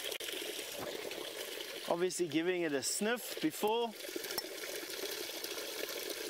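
Pond water at a natural spring in Djuma, a South African game reserve, is scooped from the top layer into a canteen. A faint, steady watery trickle runs throughout while someone speaks briefly.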